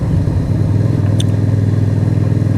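Keeway V250 V-twin motorcycle engine running with a steady, loud, low rumble throughout, close by and uninterrupted.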